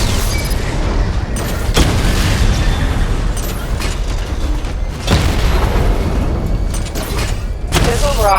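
Missile barrage explosions in Batman: Arkham Knight roll out as a dense, continuous rumble, with heavy booming impacts striking near 1.8, 5 and 8 seconds over steady game noise.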